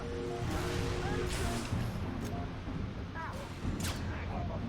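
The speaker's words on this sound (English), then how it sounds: "it might just be this turret shooting at shit" Turret gunfire in the video game Halo 3: ODST, bursts of booming shots and clattering fire over a dense rumbling battle background, with talking in places.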